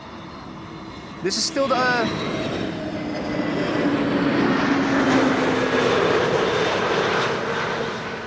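Passenger airplane on its first-year delivery livery at Amsterdam Schiphol Airport, a steady swelling jet engine roar building over several seconds after a brief burst, with someone talking over the start.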